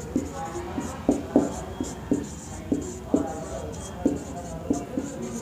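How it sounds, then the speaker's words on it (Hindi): Chalk or marker writing on a board during a physics lesson, a series of short, distinct strokes and taps at a steady pace, close and moderately loud with a faint room hum beneath. "चलो मैं लिख भी देता हूँ"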